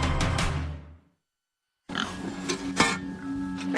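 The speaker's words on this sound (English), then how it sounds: "As Laura Saxton tends pigs in her Yuma, Colorado home" Pigs grunt and snort at a home farm in Yuma, Colorado, a burst of close grunting, a brief silence, then more snuffling and oinks over a steady barnyard murmur.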